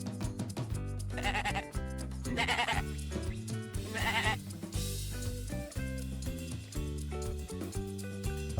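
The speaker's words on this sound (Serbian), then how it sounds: "A da, to je koza." A goat bleats in a couple of quavering calls, heard over continuous background music.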